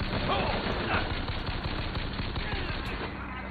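Sustained automatic gunfire from a machine gun in the shooter game BioShock Infinite, a dense rapid stream of shots that runs continuously throughout.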